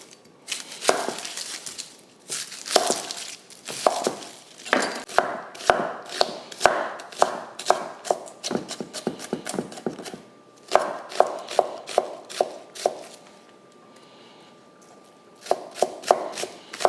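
Homegrown onions are chopped with a knife on a cutting board, a run of close, sharp cuts in quick rhythmic bursts with short pauses between sets.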